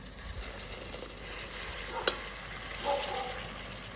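Steady, fairly quiet sizzling of hot masala in a blackened kadhai as water is poured in, a continuous crackling hiss with a few small pops and no voices.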